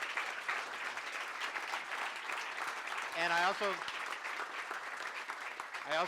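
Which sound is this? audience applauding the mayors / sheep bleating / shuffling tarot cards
audience applauding the mayors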